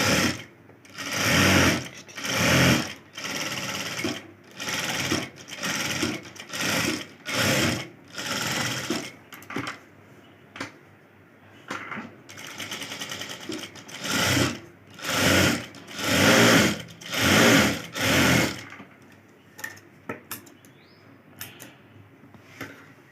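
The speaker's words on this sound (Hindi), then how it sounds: "बिल्कुल किनारे किनारे पे सिलाई करनी है, बुकरम पे नहीं आनी चाहिए।" Sewing machine stitching a green cloth along the edge of a blouse piece, running in repeated loud bursts of steady whirring separated by short pauses, with no talk.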